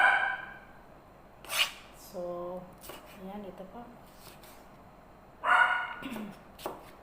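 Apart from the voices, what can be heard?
neighbour's dog barking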